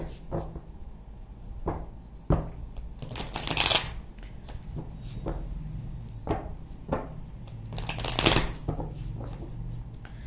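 Tarot cards being shuffled in several bursts, crisp riffling flutters with brief pauses between, close and fairly loud, with no talking.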